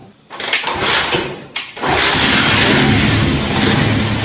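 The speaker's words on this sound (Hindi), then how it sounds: "मिसिंग कर रही है बाइक" Honda 70 motorcycle with a carburetor jet fitted, misfiring as it is revved: a loud, close engine with uneven sputters and short gaps, then a sustained rough revving roar.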